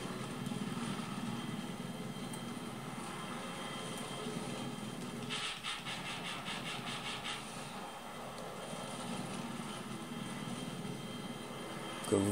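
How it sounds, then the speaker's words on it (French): Helicopter flying in the Battlefield 3 video game, a steady broadband rotor and engine drone that holds at even loudness throughout, with a brief burst of rapid rhythmic clatter in the middle. "donc là je suis à l'hélicoptère"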